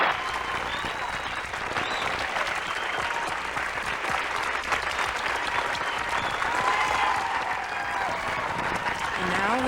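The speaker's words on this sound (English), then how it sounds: "let's have one more round of applause for all 18 contestants" Audience applause for all 18 contestants at a 1992 round card girl championship, nearly ten seconds of sustained, dense clapping from a large crowd with a faint voice and cheers mixed in.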